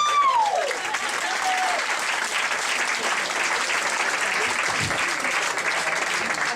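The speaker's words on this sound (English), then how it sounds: "Please clap for Mel Garlick." Studio audience applause on a comedy talk show for a guest, a full, sustained round of clapping with some crowd noise mixed in, staying loud and steady to the end.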